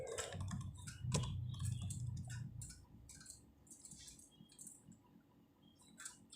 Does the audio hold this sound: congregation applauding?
no